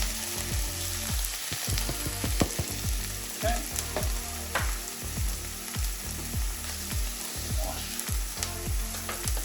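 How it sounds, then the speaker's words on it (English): Steady frying sizzle of chopped oyster mushrooms in a pan with repeated scraping and stirring knocks, fairly close, and a brief spoken word near the start. "they're going into the pan and it will start sizzling away"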